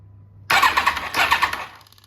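A Yamaha YZF1000 Thunderace motorcycle engine starts up close and loud, a brief starter burst catching into a rough running roar that fades off within about two seconds, with no voices.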